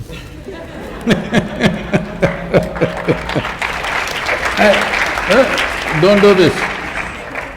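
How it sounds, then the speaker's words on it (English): Audience at a talk clapping in a rhythmic, evenly spaced beat that loosens into general applause, with a voice speaking over it and some chatter. "You're clapping at my failures."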